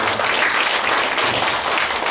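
Steady audience applause at an annual general meeting, a dense, even patter of many hands clapping at moderate volume for a couple of seconds with no speech over it.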